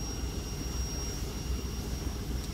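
A 2021 Suzuki DF30A outboard motor idles steadily just after its first start, with a constant low engine drone and a thin high whine running through it, and no voices.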